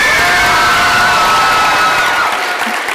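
An audience of schoolchildren at a debate event applauds loudly and steadily, a dense wash of clapping with some cheering and shouts mixed in throughout.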